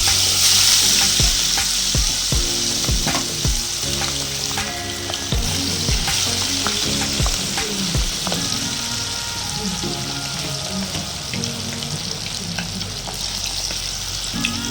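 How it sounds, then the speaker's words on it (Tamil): Chilli chicken fries vigorously in a pan, a dense, constant sizzle broken by frequent clacks and scrapes of a spatula stirring the pieces, close and loud with no talking. "இப்போ நல்லா இது பொரியட்டும்"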